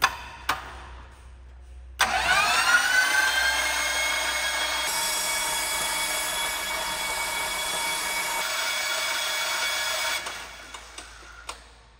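A light aircraft engine is cranked over by its electric starter with the plugs out, after a fresh oil and filter change, to build oil pressure; a steady, loud whirring drone runs for about eight seconds alone, then winds down.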